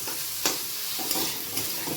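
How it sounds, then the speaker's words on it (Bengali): Vegetables with turmeric and grated ginger frying in a pan, with a steady close sizzle and a few brief scraping stirs spaced through it. "এবার সব মিলিয়ে মিশিয়ে ভালো করে একটুখানি ভেজে নেব"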